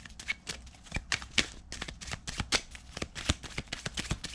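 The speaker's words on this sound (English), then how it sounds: "shuffle some more" Tarot cards are shuffled repeatedly up close, a quick series of crisp riffling flutters and soft taps in an uneven rhythm.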